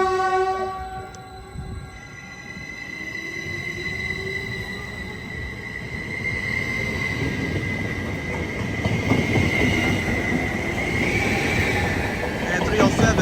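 A Caltrain train at Redwood City station, with a steady rumble of the passing train and rising rail noise and squeal, sounding its horn in sustained tones, heard close and loud throughout with some voices in the background.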